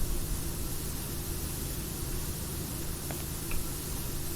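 A pressure washer spraying water in PowerWash Simulator, a steady low broadband hiss held evenly throughout, fairly faint and unbroken.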